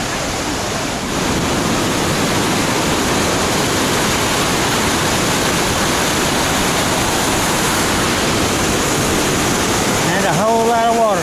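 Loud, steady roar of a big white wall of water from a waterfall along the Smith Creek Trail on a day hike, a dense continuous rush filling the whole clip, with a brief tonal chirp near the end.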